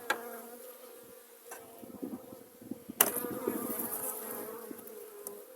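Carniolan honey bees buzz continuously at a low, steady hum during an early-March cleansing flight, close by, with a few sharp knocks and rustles and no talking.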